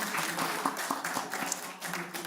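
Moderate clapping from a small audience, soft and somewhat distant, with individual claps audible in an uneven rhythm.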